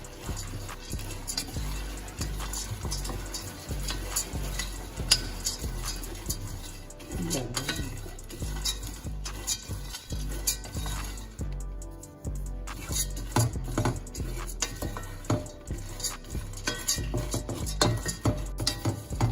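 Mixed nuts are stirred and tossed in a pan from a new cookware set, giving a busy run of close clinks, scrapes and rattles against the metal with short pauses in between.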